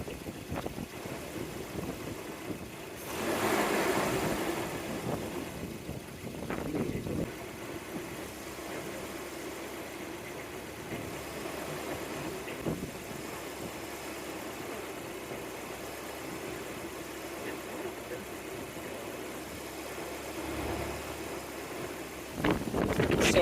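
An old Volvo engine idles steadily while its idle mixture is adjusted, a continuous mid-low hum with gusts of wind buffeting over it and a brief louder rise near the start.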